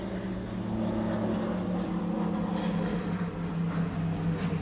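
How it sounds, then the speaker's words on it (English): A propeller airplane with its propeller at the front drones steadily overhead, a continuous low, even engine hum holding at a moderate level throughout with no talking. "there's that plane again."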